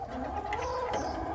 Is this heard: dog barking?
no